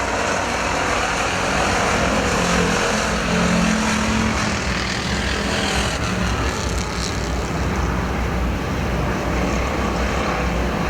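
Factory stock race cars, six Camaros and a Nova, roar around Perris Auto Speedway in a heat race, a dense continuous engine drone filling the air with no talk over it.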